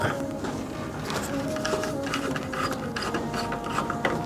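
A tool works on a bracket holding a ceiling-suspended rod in a furniture store's lighting, giving a continuous ratcheting, clicking mechanical rattle close up and at moderate volume, with faint talk in the background.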